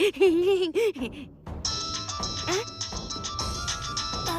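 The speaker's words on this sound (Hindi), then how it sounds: "इतनी रात हो गई, किसका फोन है?" A phone ringtone chimes late at night in a Hindi TV drama, a steady electronic tone pattern running for several seconds after someone speaks briefly.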